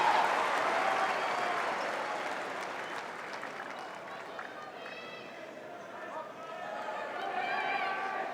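Tennis crowd cheering and applauding at the Australian Open, a dense, steady wash of clapping and cheers that swells near the end, with a commentator's voice faintly under it.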